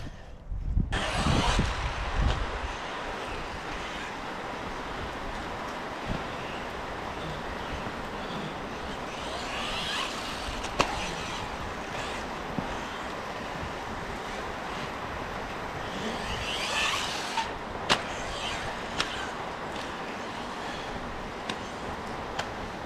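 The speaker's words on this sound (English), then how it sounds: "Holy crap, the rain came down quick." Rain coming down quickly over an outdoor turf track where a Hosim M13 RC truck is being driven: a steady, dense hiss of falling drops that thickens slightly over time, with no one speaking.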